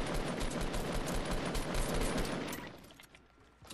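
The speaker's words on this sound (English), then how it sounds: "I'll snipe this guy here" Gunfire in the Fortnite video game comes as a loud, dense volley of rapid shots for about two and a half seconds, then quickly fades into quieter background.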